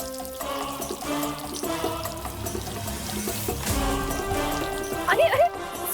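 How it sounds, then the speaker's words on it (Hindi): Water pours steadily onto a potted plant indoors, a soft continuous splash set under loud dramatic background music, with no other clear sounds. "जी, पौधे को पानी दे रही हूँ।"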